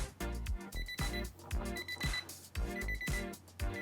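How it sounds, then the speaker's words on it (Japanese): An IKEA kitchen timer rings its alarm in a steady pattern of repeated electronic beeps, roughly two per second. It sounds loud and close, with no talking over it. "で、アラーム音はこんな感じで、"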